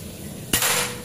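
Single sharp crack of a classic PCP air rifle with a 50 cm Yumaja barrel and 4000 psi charge, a sudden close report followed by a brief bright hiss that trails off, heard alone.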